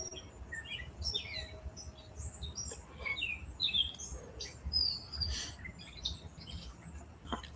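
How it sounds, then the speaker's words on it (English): Several birds chirp and tweet outdoors in the early morning, with short bright calls scattered throughout over a soft background rumble. "I hear some birds."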